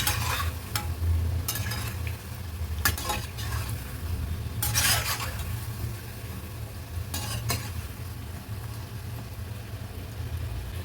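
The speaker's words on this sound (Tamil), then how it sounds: "அது மாதிரி எல்லாத்தையும் போட்டு பொரிச்சு எடுக்கணும்" Chickpea and corn vadas frying in oil over a medium flame, giving a steady close sizzle with occasional louder bursts of crackling and a few stirring or utensil clinks, and no voices.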